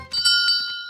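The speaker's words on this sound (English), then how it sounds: "Yeah, I know the bell sounded like it's that way" A bright metallic bell rings at a race checkpoint in a cartoon, a quick cluster of two or three clear chimes that leave a sustained ringing tone fading out over about a second.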